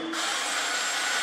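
A small power screwdriver whirring steadily for about a second, a close, thin motor whine with a bright high hum and no voices.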